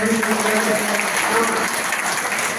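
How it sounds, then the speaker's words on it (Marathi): A meeting audience claps loudly and continuously, a dense wash of applause filling the room from start to finish with a faint murmur of voices underneath. "मग जोरात टाळ्या वाजवा जरा"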